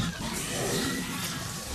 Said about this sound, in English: The first sound was a dolphin we recorded underwater, and it made this high-pitched scream that was really horrific.